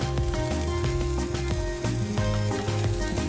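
Tomato sauce sizzling loudly in a pan as flour is added, a dense steady crackle running throughout with a tonal musical bed underneath.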